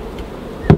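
Honeybees buzz around opened hive frames holding dead brood: a faint, steady hum throughout, swelling into a short, louder burst near the end.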